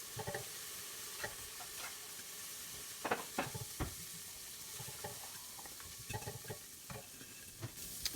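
Trinidad curry channa frying in a hot pot gives a soft, steady sizzle with occasional clinks and stirring scrapes, quiet and continuous with no voices.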